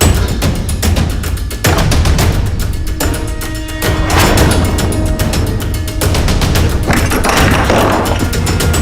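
Heavy repeated thuds and bangs pound against a locked door, loud and close, one after another as it is forced open.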